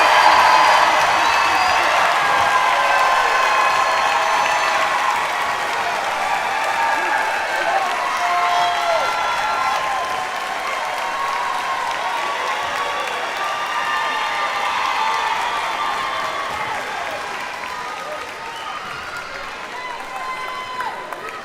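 A standing crowd at the 2022 Spartanburg Methodist College commencement ceremony gives the graduates a long, sustained round of applause with scattered cheers and whoops, loud and even throughout.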